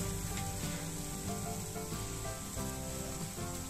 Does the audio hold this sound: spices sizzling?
yes